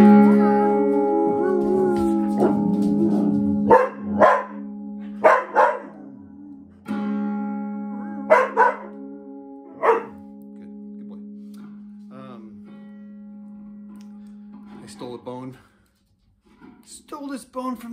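A dog named Mojo howls and yips along with a twangy cigar box guitar, with sporadic barks over sustained droning strings; close and moderately loud, fading to near silence before a few final sounds.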